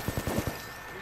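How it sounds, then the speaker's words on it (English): Rapid video game gunfire rattles out in a quick burst of about five close, loud shots before trailing off into a ringing tail. "why is the whole team shooting at me?"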